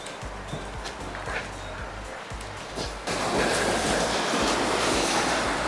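Water of the Sacramento River rushing steadily past a riverside walk, a broad continuous wash that swells louder halfway through, mixed with wind buffeting the microphone.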